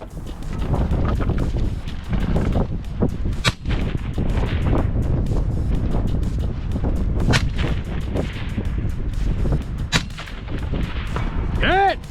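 Gusty wind buffets the microphone at an outdoor shooting range, a constant low roar throughout, punctuated by sharp, loud gunshots from the firing line.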